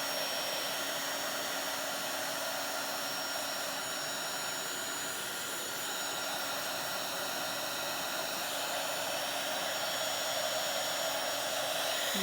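A heat tool blows a steady, even hiss of hot air while drying a textured paper journal page, constant and close for the whole stretch, with no talk.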